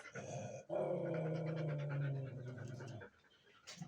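A dog growls low and steadily for a few seconds from behind a door, sounding slightly muffled, then trails off into quieter breathing.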